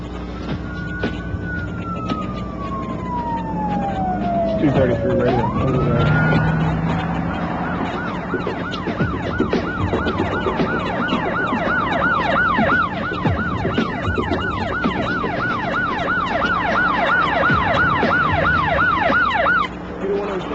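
Emergency sirens wail close by, a long rising-falling tone giving way to a rapid, steady yelp over rumbling traffic.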